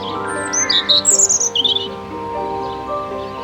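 A robin sings out of a quiet outdoor scene, high bright chirps and squawky trills arriving in a quick burst over a steady low hum, then fading away.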